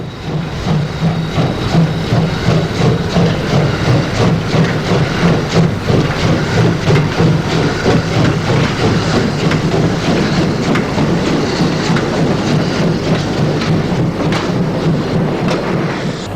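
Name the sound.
DR class 01 Pacific steam locomotive hauling Berlin-bound train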